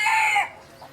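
A young rooster lets out a short, close, half-second crow that trails off, followed by a faint cluck.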